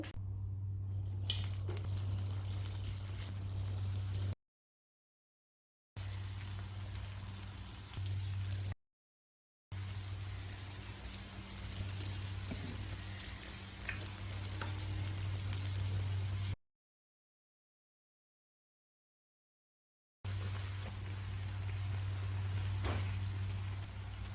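Balls of batter dough fry in hot oil for Chettinad snacks, giving a steady, fine crackling sizzle over a low electrical hum, broken by a few fully silent gaps.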